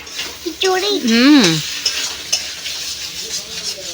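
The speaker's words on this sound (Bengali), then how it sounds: "ডিম অমলেট হচ্ছে।" An egg omelette sizzles steadily in a frying pan in a home kitchen, a continuous close crackle that runs under a brief voice near the start.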